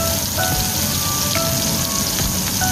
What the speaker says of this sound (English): Heat up the pan, and we're just going to saute off our onions.